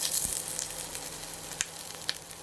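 Chopped garlic frying in oil in a pan for egg noodles, a steady close sizzle with a few small pops and crackles, no voices.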